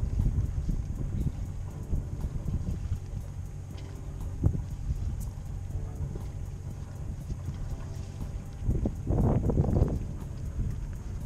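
Wind buffets the microphone in a sheltered harbour as a boat manoeuvres slowly in spring, giving a steady low rumble with gusts swelling louder near the end, under a faint engine hum and no talking.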